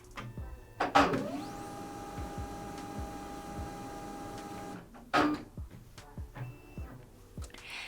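A Samsung Xpress M2070W laser printer warms up after power-on, giving a steady mechanical whir with faint tones. Sharp clicks and clunks mark the start, and a few more clicks and thumps follow once the hum stops.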